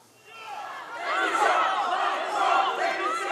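A crowd of gilets jaunes protesters booing and shouting together, the jeering swelling quickly from near quiet into a loud, sustained roar of many overlapping voices.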